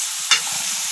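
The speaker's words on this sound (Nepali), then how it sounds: "मासुलाई यसरी हामी चलाएर मस्तसँग हामी एकछिन यसलाई हामी तेलमै फ्राई गर्छौँ प्याज र" Meat and onion frying in oil hiss steadily, and a single quick scrape of a stirring spoon cuts through partway, with no voices.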